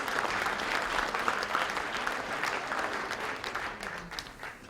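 About 110 pastors from 31 regional associations at a Gyeonggi Christian New Year prayer breakfast applaud together in an even, sustained round of hand clapping that softens slightly near the end.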